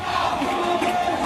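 A huge crowd of Hindu marchers at a protest in Bangladesh gives off a brief, steady wash of massed voices and shouting, loud and close.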